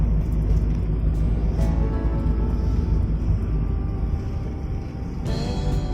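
A car cruising along a highway on an evening road trip from Coorg to Bangalore, giving a steady, close low rumble of engine and tyre noise with constant road hiss throughout and no talking.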